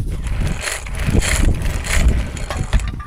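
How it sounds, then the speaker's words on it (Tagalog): Strong gusting wind buffets the microphone in rumbling bursts, loud and uneven throughout. "Lakas ng hangin yan guys."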